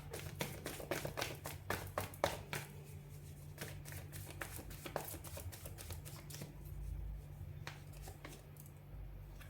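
Tarot cards are shuffled in quick, crisp riffling bursts and light taps, close and fairly quiet over a faint steady hum, with no talking.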